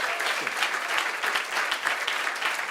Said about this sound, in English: Make a round of applause for Dorothy and her Dorothy camera.